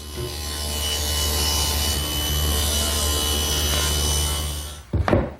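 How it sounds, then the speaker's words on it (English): A table saw, blade tilted to a 10-degree bevel, rips through pieces of wood with a steady, loud, continuous whine, then spins down with a few knocks at the end. "I've set the table saw at 10 degrees and I beveled one edge of this larger piece. Now I'll just run 4 pieces."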